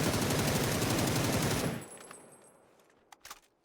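A loud, dense burst of automatic gunfire in a video game rattles for under two seconds, then fades into a decaying tail with a few faint clicks.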